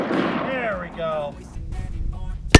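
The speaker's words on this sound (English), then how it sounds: "this is probably as close as I feel comfortable being to steel shooting 44 Magnum" A single sharp .44 Magnum shot rings off a steel target at the very end, preceded by someone talking outdoors.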